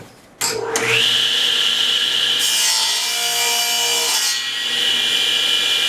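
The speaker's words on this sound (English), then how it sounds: "I can even talk over the sound of my saw." A Porter Cable PCB270 table saw motor spins up and runs steadily with a loud, even high-pitched whine, close by, with a brief shift in pitch midway.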